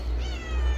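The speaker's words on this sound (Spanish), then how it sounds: "los gatos solo escuchan, solo huelen la carne" Cats meowing in a kitchen where beef soup is being cooked, drawn by the smell of meat; a short, fairly close cry over steady low background noise.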